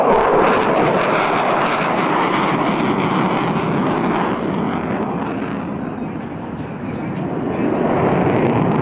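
A Singaporean F-16 fighter jet flies a low, slow pass at an air display over Australia, a loud, continuous broadband engine roar with wind buffeting, swelling slightly toward the end.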